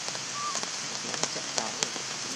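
Rain falling outdoors, a soft steady patter with scattered sharper drops hitting a surface, fairly faint and heard alone.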